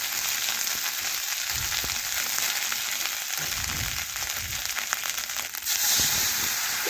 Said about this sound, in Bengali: এটাও ভালোভাবে মশলার সাথে মিশিয়ে মশলা একটু কষে নিচ্ছি